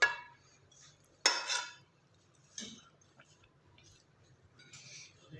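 Metal utensils clink against a pot while mutton biryani is served out, a few sharp scraping clinks spaced apart, close and fairly quiet with near-silence between them.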